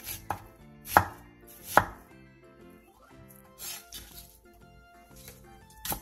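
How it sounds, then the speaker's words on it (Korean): A knife slices three onions into thin strips on a cutting board, crisp irregular chopping strokes with a few sharp, louder thwacks, close up over quiet background music. "양파 3개를 취향에 맞는 두께로 채 썰어주세요"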